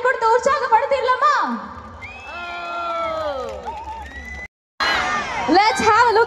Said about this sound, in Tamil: அதுக்கு ஒரு பெரிய கைத்தட்டல் கொடுத்து உற்சாகப்படுத்திடலாமா?